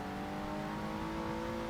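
In Project Gotham Racing 2, a Noble race car runs a hot lap on a wet Stockholm circuit, its engine holding a steady droning hum with layered harmonic tones at moderate volume, no voices.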